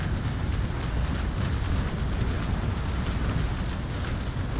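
Cannon broadside thundering from a ship of the line in the naval sailing game Naval Action; a dense, continuous rumbling barrage of overlapping booms, loud and steady throughout with no talk.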